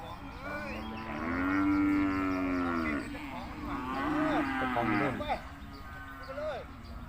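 Loud, drawn-out cattle moos at a Sikhoraphum cattle and buffalo market, two long bellowing calls close by with people talking underneath and market bustle around.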